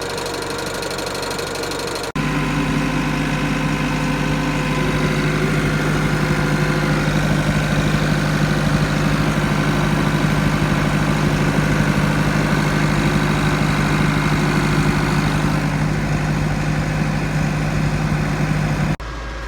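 A diesel tractor engine idling steadily, loud and close, with a low rhythmic chug that holds constant after a brief quieter start.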